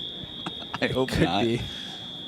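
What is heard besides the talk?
electronic buzzer alarm from a gate door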